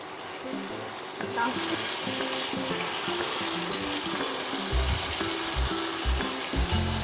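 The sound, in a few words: chana masala spice paste frying in oil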